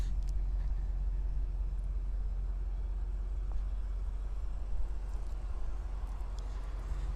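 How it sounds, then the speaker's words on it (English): A steady, deep engine rumble from a cold-started F90 BMW M5 holds evenly throughout at a constant level, with no talking. "edit in the engine note on a cold start"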